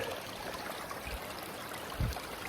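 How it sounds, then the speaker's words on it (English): Steady rushing and trickling of a shallow river while someone wades through it in snowy winter conditions near Llyn y Fan Fawr, faint and continuous with a brief splash near the end. "I'm wading through a river pretty much"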